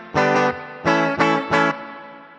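A Donner DST 152S electric guitar on its single-coil bridge pickup, played through an effects chain: four loud, distorted chord stabs in an uneven rhythm, each ringing briefly, heard alone without talk.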